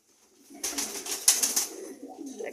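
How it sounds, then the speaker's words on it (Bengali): Pigeons being released at home, a short soft flurry of cooing and wing flutter that rises and fades within a couple of seconds, faint and fairly close. "কবুতরগুলো ছাড়ছি"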